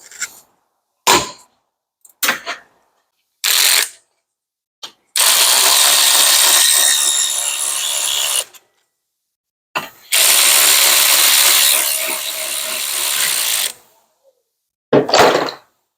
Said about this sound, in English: I'm gonna break it loose and then just do it with an electric ratchet.